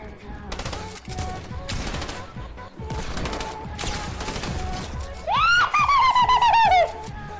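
Rapid bursts of gunfire crackle through a Fortnite Battle Royale match, loud and repeated, while a player talks over the shooting and a rising electronic game effect sounds near the end.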